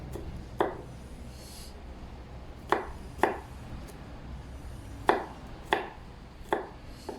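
Garlic minced with a knife on a cutting board for milkfish tamarind soup, heard as about nine sharp, close chopping taps in loose pairs and singles over a quiet background.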